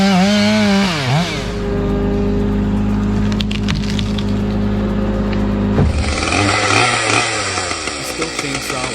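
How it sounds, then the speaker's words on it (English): A big steel chainsaw with a 160cm bar and 122cc engine cuts through ash, its loud engine droning steadily, dipping in pitch early on and then revving harder as the chain bites deeper into the wood. "The steel chainsaw with a 160cm bar isn't just a saw, it's a monster among chainsaws."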